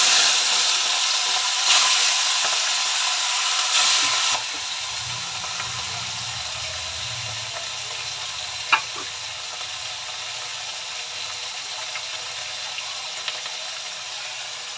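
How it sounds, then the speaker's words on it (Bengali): Pieces of rohu fish fry in hot oil in a pan in a home kitchen, giving a steady close sizzle with soft bubbling and an occasional sharp pop or crackle. "এই যে মাছ ভাজা বসিয়ে দিলাম।"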